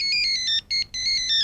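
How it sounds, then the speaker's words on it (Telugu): A mobile phone ringtone plays a bright, repeating electronic melody in short bursts, with a brief gap in the middle, loud and close, heard alone without speech. "ఫోన్."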